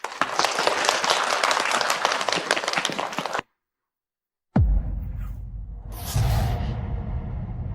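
A loud burst of audience applause for a gold-prize piano contestant, dense and sustained for about three seconds, then cutting to silence before a low rumbling ambience with a brief swoosh.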